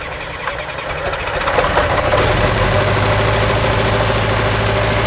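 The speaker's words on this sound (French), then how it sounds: "Vous êtes en train de lancer son moteur principal" The main engine of the Eole aircraft starting at Candillargues, rising from a rough knocking churn into a loud, steady mechanical drone that holds close and constant.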